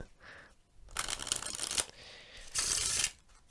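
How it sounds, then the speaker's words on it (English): A deck of playing cards is shuffled in two close bursts of crisp riffling, with a softer rustle of handling before and between them, quiet and alone. "I'll give the deck a good shuffle"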